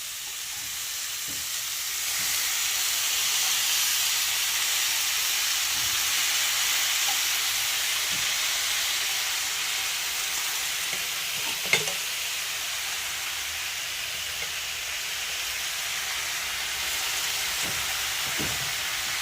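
Spinach and shrimp fry in a pan with a steady, broad sizzle, while occasional soft scrapes of stirring come through and one sharper clink stands out near the middle.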